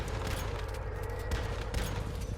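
Gunfire from the survival shooter Once Human, heard as a dense, continuous stream of shots with low booming weight, fairly faint and steady throughout with no pauses.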